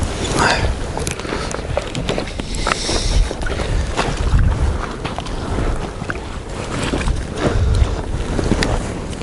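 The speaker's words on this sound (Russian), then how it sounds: "Тут ветрище вообще в чистом поле." Strong wind in an open field during a March snowstorm turning to rain at a fishing spot, heavy blustery gusts buffeting the microphone in a continuous roar with occasional bumps and faint handling sounds.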